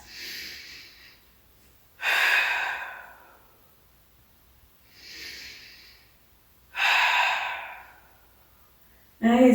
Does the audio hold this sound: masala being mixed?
no